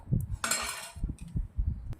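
Cooked suran, elephant foot yam, being scooped from a kadai into a bowl: a few close metallic scrapes and clinks of a spoon against the pan, with short dull knocks between them.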